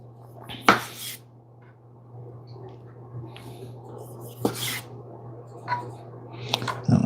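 A knife cuts through tomatoes at home beside a stove, giving a few sharp taps against the board with soft squishes between them over a faint steady hum, close and fairly quiet.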